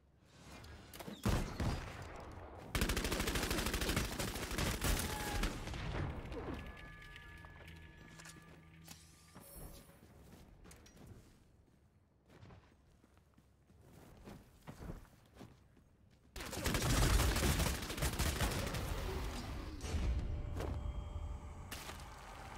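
Bursts of gunfire and crossbow shots ring out in the video game Bloodhunt inside a parking garage, loud dense volleys at the start and end with quieter clatter and thumps between.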